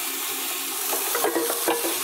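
A homemade burger frying in a pan, giving a steady, close hiss and crackle of sizzling fat with a few brief spatters and scraping stirs partway through, and no talk.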